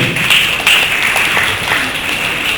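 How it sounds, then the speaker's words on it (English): Audience applause at a student entrepreneur summit, a dense steady wash of clapping from a crowd that holds at an even level throughout with no voices over it. "A big round of applause to him."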